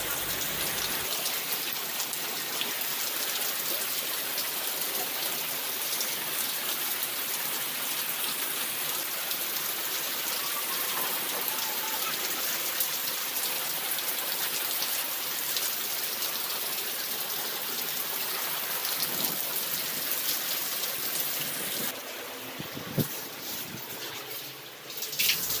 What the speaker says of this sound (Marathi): मस्त असा पाऊस दाखवला तुम्हाला.